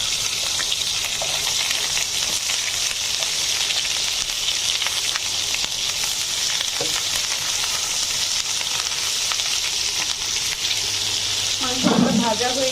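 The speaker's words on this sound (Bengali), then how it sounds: "আমার সবগুলো মাংস ভাজা হয়ে গেছে" Chicken pieces sizzle steadily in hot oil for white chicken biryani, a dense continuous frying hiss with faint stirring scrapes and a brief louder burst near the end.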